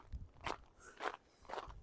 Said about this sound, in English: it's a little bit slushy. It's a little bit crunchy too.